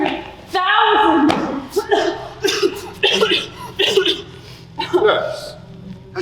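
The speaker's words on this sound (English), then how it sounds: "Nurse, has she had that cough long?" A woman coughs repeatedly on stage during a theatre production of Dracula, several sharp, close coughs scattered between voices of actors speaking.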